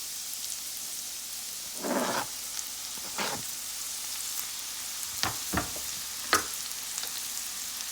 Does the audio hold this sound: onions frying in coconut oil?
yes